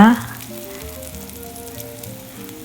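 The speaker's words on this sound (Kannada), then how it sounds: "ಚೆನ್ನಾಗಿ ಫ್ರೈ ಆಗ್ತಾ ಬಂತು ನೋಡಿ" Fish roe frying in hot oil gives a steady, moderate sizzle that runs without a break, opening with a brief louder burst at the start. Faint tonal hum sits beneath the frying, and no one speaks.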